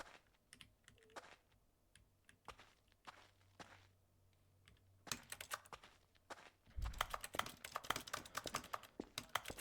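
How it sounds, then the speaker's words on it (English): Keyboard keys click in the Stanley Parable video game, first as sparse scattered taps and then as dense rapid typing near the end, with a faint hum underneath. "he's clicking on the keyboard."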